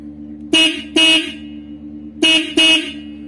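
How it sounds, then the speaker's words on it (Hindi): A motorcycle horn wired through a relay honks in four short, loud blasts arranged as two quick pairs, each a flat buzzing tone, with brief silences between them. "अब मैं आपको हॉर्न बजा के दिखाता हूं।"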